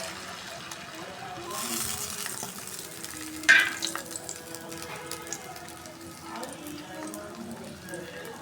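Lentil fritters mixed with Malabar spinach, onion and chilli sizzle as they go into hot oil, a soft steady crackle with a brief louder splash partway through and quiet fizzing after.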